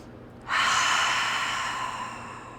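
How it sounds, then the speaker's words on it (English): A single long, deep breath during a guided yoga session, starting abruptly and fading slowly over a couple of seconds, close and fairly loud, with no talking. "Close your eyes and give yourself a deep cleansing breath."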